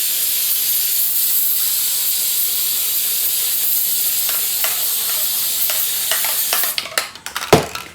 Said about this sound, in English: Spray her down.